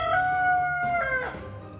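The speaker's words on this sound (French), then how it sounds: "le coq enfermé à l'intérieur se mit à chanter d'une voix puissante" A rooster shut inside a large wardrobe crows once, a powerful drawn-out cock-a-doodle-doo close by, trailing off into a lower croak at the end.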